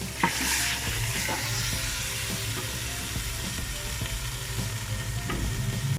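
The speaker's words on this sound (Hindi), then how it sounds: "अब इसके अंदर हम बॉयल गोश्त डाल देते हैं।" Boiled camel meat sizzles and fries loudly in hot spiced oil, with occasional scraping and stirring knocks against the pan.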